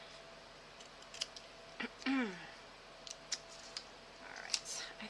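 Scissors snip through thin paper ephemera while decorating a journal, giving a few short crisp cuts and clicks close by, with someone speaking briefly over them.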